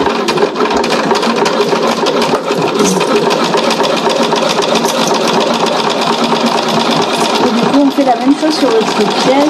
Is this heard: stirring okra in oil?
no